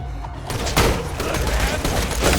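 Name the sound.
explosion and gunfire in video game Borderlands 2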